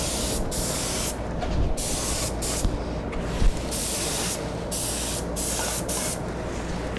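Short bursts from a spray can hiss loudly over a steady background rumble, laying a final top coat on a model car body of a Mad Max Pursuit Special Interceptor, with brief pauses between passes.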